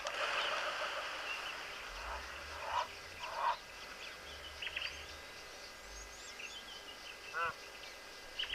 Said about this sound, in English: Those are the go-away birds.